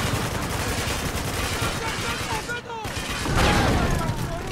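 Sustained heavy machine gun fire from a .50 cal turret in Spec Ops The Line, a loud continuous rattle of shots that swells near the end, with voices talking over the battle.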